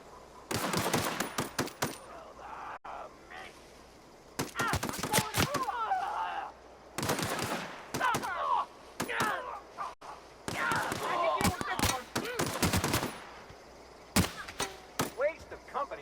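Loud bursts of rapid gunfire from The Outer Worlds come in three or four clusters separated by short lulls, with a voice talking between and over the shots.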